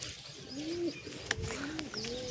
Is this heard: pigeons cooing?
yes